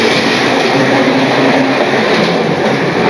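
Model railway train rolling along its track, a steady loud rumble with faint clickety-clack running continuously throughout, no voices.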